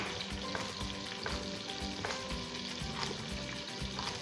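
Coconut fish head soup ingredients dropped all at once into a hot pot, with a steady loud sizzle and frying crackle plus a few soft stirring knocks and splashes, no voices.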